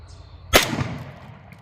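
A single sharp gunshot from a Smith & Wesson M&P pistol in .357 SIG, fired with a deliberately loose, limp-wrist grip, rings out close and loud before a short decaying tail.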